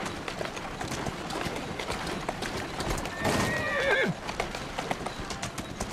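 A horse in Assassin's Creed Syndicate whinnies with a rising then falling neigh over busy hoofbeats and rustling, loud and near.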